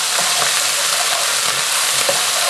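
Chili paste sizzling in hot oil in a frying pan while being stirred, a dense, loud, steady frying hiss close up with faint scraping, and no talking.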